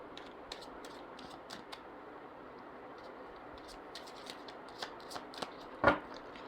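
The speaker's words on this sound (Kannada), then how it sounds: "ಇನ್ನೊಂದು ಕಾರ್ಡ್ ತೆಗಿಬೇಕು." Oracle cards are shuffled and drawn by hand up close, with soft rapid flicking and riffling, scattered light taps and a single firmer slap near the end, all quiet with no talking.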